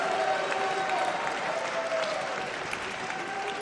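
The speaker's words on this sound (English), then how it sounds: "Please give a really big round of applause to Julia Morley." Large audience applauding steadily at the Miss World pageant, a dense sustained roar of clapping filling the hall, loud and even throughout with a faint tone running underneath.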